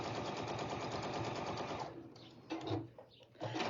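Sewing machine stitching across a fabric carrier, a close rapid mechanical rattle for about two seconds, then stopping, followed by a couple of short bursts.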